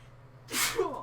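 One close, loud, breathy sneeze bursts out indoors, with a short voiced tail as it trails off.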